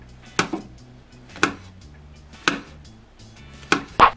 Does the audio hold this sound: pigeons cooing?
no